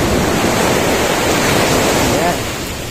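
Ocean surf rolls in at a beach in Ilocos Norte, a loud, close, continuous wash of breaking waves with wind rush that eases slightly toward the end.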